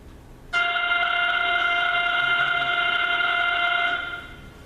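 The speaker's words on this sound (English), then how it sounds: "And this fast pulsar sounds like this." A fast millisecond pulsar's radio signal converted to sound forms a steady, buzzing high drone. It starts abruptly, holds evenly at moderate loudness for about three and a half seconds, then fades out.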